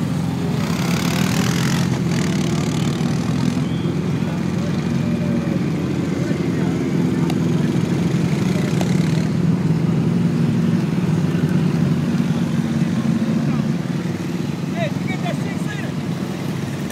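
A 6-liter engine runs steadily at close range, a deep continuous low rumble that holds at an even level throughout with no clear revving.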